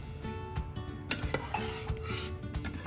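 A rohu fish curry is stirred in a pot after hot water is added, with spoon scrapes and clinks against the metal over a soft simmer, in close, moderately quiet short bursts.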